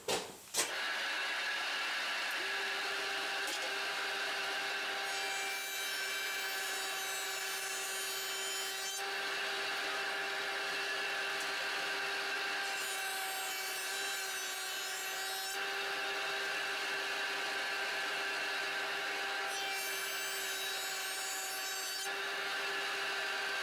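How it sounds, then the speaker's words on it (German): A dust extractor roars steadily throughout while a saw cuts wood for a folding table, with sawing bursts rising over the constant whine in several passes, close and loud, no talking. "Dann Absaugung an und los geht's!"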